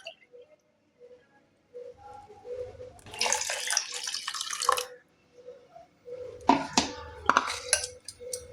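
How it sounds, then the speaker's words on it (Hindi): Water is poured in a couple of bursts into whipped besan (gram flour) batter in a home kitchen, splashing and trickling near and clear between quiet pauses. "अब इसमें 1 कप पानी और डाल देंगे"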